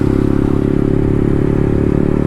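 A motorcycle engine drones loud and close in a steady low pulsing rumble as the bike is ridden, with no pauses or voices.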